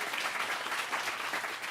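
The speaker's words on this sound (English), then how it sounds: "let's clap for Google for getting it out there." Audience applause at a Talks at Google event with Earvin Magic Johnson, a steady wash of many hands clapping throughout, fairly even and close, with no talking over it.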